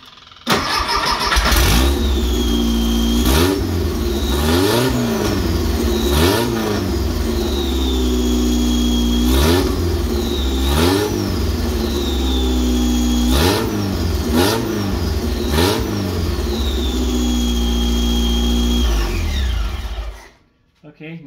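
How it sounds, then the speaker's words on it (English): Engine of a car with a tri-power setup running on only the center carburetor, loud and steady at close range, with repeated revs rising and falling throughout before cutting off at the end; speech-like tonal sweeps overlap the engine noise. "So let's see what it does with one carburetor."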